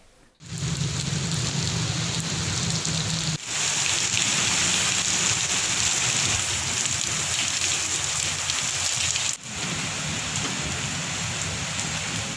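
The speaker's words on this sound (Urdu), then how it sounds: "کہیں موسلا دھار تو کہیں ہلکی بارش سے موسم خوشگوار ہو گیا ہے" Heavy downpour across Punjab during a May storm, a dense steady roar of rain hitting surfaces that fills the whole stretch, loud and close, with no speech over it.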